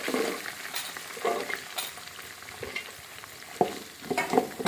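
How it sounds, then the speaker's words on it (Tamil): Onions frying in a pan with fenugreek for a village-style fish gravy, a steady close sizzle broken by several scraping stirs of a spoon against the pan. "வெங்காயம் போட்டுக்கலாம்"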